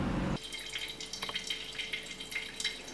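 An open tap runs with a steady, soft trickle and spatter, faint and continuous, after a brief louder burst at the start.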